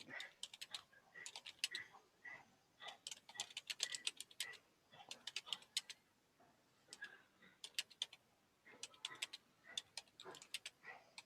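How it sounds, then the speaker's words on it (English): Someone types on a computer keyboard nearby in a quiet room, fast bursts of key clicks in irregular clusters separated by short pauses. "Oh gosh, my typing here."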